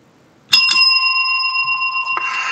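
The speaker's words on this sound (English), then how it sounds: "Well, that was the double bell." A bell rings twice to signal the end of a shift, a sharp bright strike followed by a second one and a sustained ringing tone that lingers for about two seconds.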